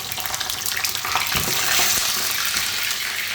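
Freshly washed brinjals frying in hot oil, a loud dense crackle and hiss that swells slightly midway, close up with no voices.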